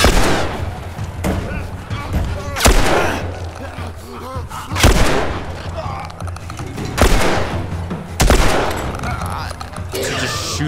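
Repeated loud gunshots in The Last of Us Remastered, several sharp bursts spaced a couple of seconds apart with rumbling echoes, heard alone without talk.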